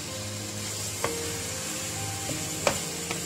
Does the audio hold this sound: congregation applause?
no